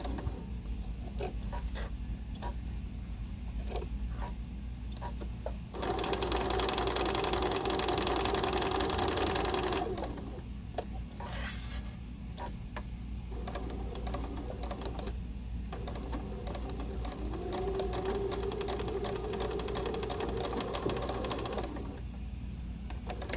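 A sewing machine back-stitches a fabric 3-D face mask nose piece, its motor running steadily in close, busy bursts with brief pauses between runs of stitching.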